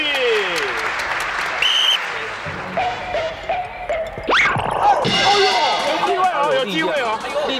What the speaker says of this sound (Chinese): 我们给他掌声鼓励鼓励